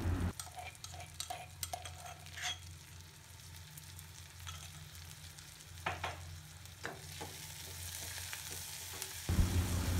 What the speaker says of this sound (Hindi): प्याज अच्छे से भुनने के बाद हम लहसुन डाल देंगे।